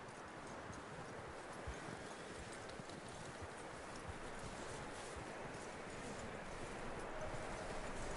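Horse hooves clip-clop steadily on the ground in Red Dead Redemption 2, a continuous close rhythm over a dense, rustling bed of ambient outdoor noise, with no talk.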